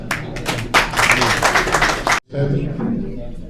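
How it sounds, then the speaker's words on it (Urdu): A crowd at a literary celebration event applauds to welcome a speaker onto the stage, loud close clapping that cuts off sharply, then resumes more faintly with a voice speaking over it. "آپ تالیوں سے استقبال کریں۔"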